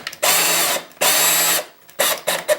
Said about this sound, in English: Alright, so now you need to remove all the screws.